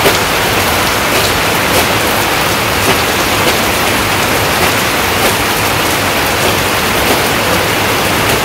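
Heavy morning rain pours steadily over a Bangladeshi village, a dense continuous hiss of drops beating on surfaces, loud and close throughout with no voices.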